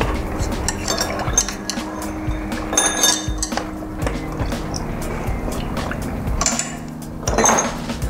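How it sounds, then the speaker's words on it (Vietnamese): Brown rice, lotus seeds, red beans and corn are stirred with water in a pot, producing close, repeated scraping and clinking of a utensil against the metal pot, with some wet sloshing. "trộn đều tất cả các nguyên liệu lên"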